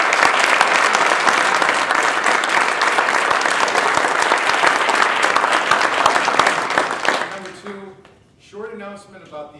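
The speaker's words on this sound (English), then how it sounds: "Please, very warm applause for all six of our great contestants." Warm audience applause for six Toastmasters table topics contestants, dense and steady for about seven seconds, then quickly dying away as a speaker begins talking.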